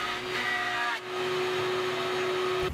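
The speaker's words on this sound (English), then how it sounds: "I'm going to use my bandsaw to rough out this blank." A bandsaw roughs out a spalted maple blank for an acoustic guitar end wedge, a steady close whining hum with a constant tone and a brief dip as the cut changes.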